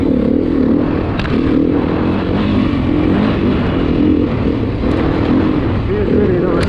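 A 2023 Beta RR430 dirt bike engine drones loud and close while riding, a steady low rumble with slight rises and dips in pitch, overlaid by heavy wind buffeting and a voice talking underneath.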